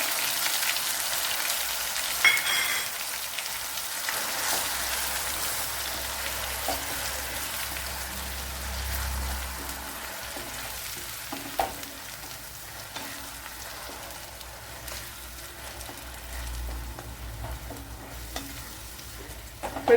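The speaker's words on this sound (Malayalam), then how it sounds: "ഇനി ഇതിലേക്ക് അരച്ച് വെച്ചിരിക്കുന്ന സവാള തക്കാളി പേസ്റ്റ് ചേർത്ത് കൊടുക്കുക" Ground onion and tomato paste fries in a pan with a sustained soft hiss and bubbling spatter, occasional spatula scrapes and a low hum underneath, steady and close for the whole stretch with no speech.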